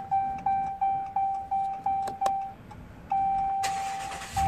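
A 2013 Dodge Ram sounds a series of evenly spaced electronic warning chimes. Its engine then starts, bursting into a brief broadband whir near the end, fairly quiet and close.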